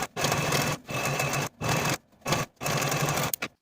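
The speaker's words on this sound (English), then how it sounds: "I'm going to be using my serger." A serger overlocks the edges of dress fabric in four quick, loud bursts of rapid mechanical whirring with short pauses between them.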